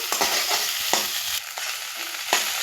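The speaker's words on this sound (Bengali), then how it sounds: "ডিমটা দিয়ে আবার আমি নাড়াচাড়া করে নিচ্ছি।" Egg is stirred through Maggi noodles in a frying pan, giving a loud continuous sizzle broken by a few scraping strokes of the spatula.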